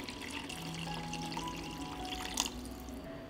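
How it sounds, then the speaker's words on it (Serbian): Water is poured into a pot over vegetables and spices, a steady close rushing splash that swells briefly near the end. "I nalit ću sa vodom"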